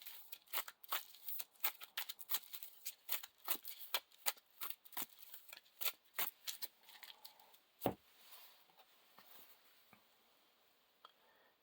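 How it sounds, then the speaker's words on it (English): Cards are shuffled by hand during a Lord of the Rings card game, a quiet run of quick riffling flicks and papery taps that thins out toward the end. "Now we shuffle the Gwaihir Boon card into the encounter deck."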